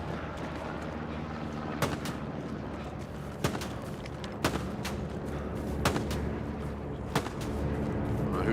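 Gunfire crackles across a World War II battlefield in the video game Hell Let Loose: about half a dozen distant, sharp shots and blasts at irregular intervals over a dense, rumbling battle ambience.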